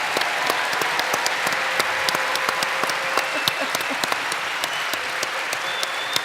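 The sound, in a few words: audience applause for speakers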